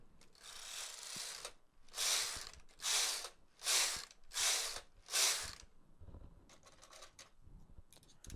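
A knitting machine carriage sweeps back and forth to scrap off the final shell row of a seashell shawl, giving about six rhythmic whooshing, clattering passes up close, then quieter mechanical rattles.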